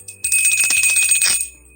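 Bright bell ding for a subscribe bell icon, ringing out as a sustained metallic chime over a soft rhythmic thump, then fading away.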